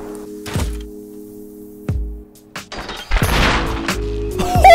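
A single sharp, heavy rifle shot from an L96 sniper rifle in the survival game Rust cracks out near and loud, followed by further impacts and rising clatter.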